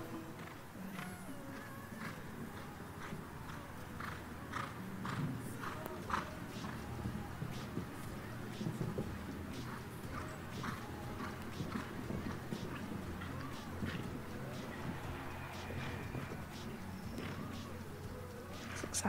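Show-jumping horse hooves thud on the ground at an FEI Olympic qualifier in Valkenswaard, Netherlands, in irregular clip-clop strikes heard from a distance through steady outdoor ambience with buzzing insects.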